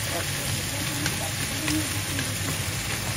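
A continuous sizzle of crabs stir-frying in a hot pan, with occasional clatter of stirring and faint voices in the background.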